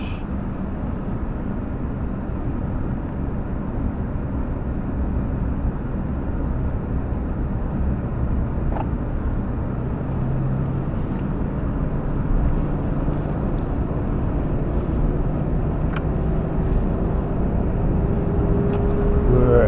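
Mercedes W126 cruising on a motorway at night, a steady, close interior rumble of engine and road noise with a faint rising whine, continuous and unbroken throughout, with no talking.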